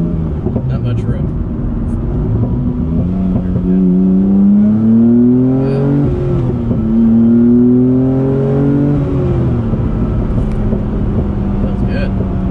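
A Rossion Q1 supercar engine pulls under moderate throttle from inside the cabin, its tone rising and dipping through smooth gear changes, a steady loud drone throughout.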